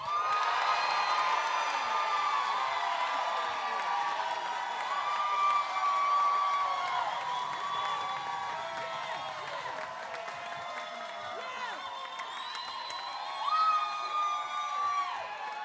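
An audience at the Columbus Funny Bone comedy club applauding and cheering loudly, with sustained clapping, whoops and shouts that ebb slightly and swell again near the end.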